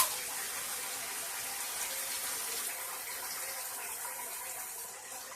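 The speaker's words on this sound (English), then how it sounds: "just dipping the brush into the sink and remixing the lather." Water runs steadily from a tap into a sink as a shaving brush is dipped in, a continuous splashing gush that fades a little at the end.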